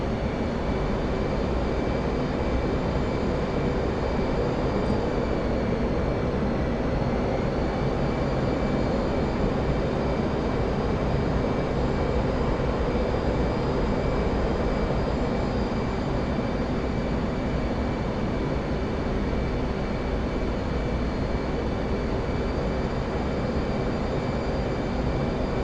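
F/A-18C jet engines roar steadily on approach for a carrier landing in the DCS flight simulator, a loud continuous whine and rumble with no voices.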